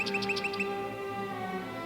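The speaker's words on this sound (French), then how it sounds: "Écoutez, C'est le rossignol." Nightingale song in a radio drama, a quick run of bright repeated chirps at the start over a steady sustained musical tone, then the birdsong stops and the tone continues alone.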